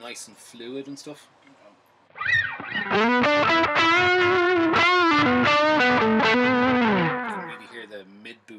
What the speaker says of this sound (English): Again, it's just an analog echo on the M5.